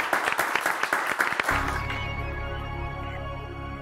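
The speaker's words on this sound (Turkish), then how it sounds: "Hanımlar beyler Bülent Bey'i alkışlarla uğurluyoruz" A studio audience on a Turkish quiz show claps in a dense burst of applause that fades out after about a second and a half into a low, lingering room hum.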